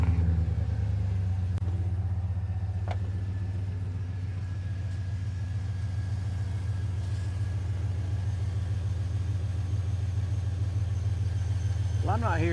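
Car engine idling after an exhaust manifold leak repair, a steady smooth low rumble throughout, close and even without ticking, with a brief sharp noise near the end.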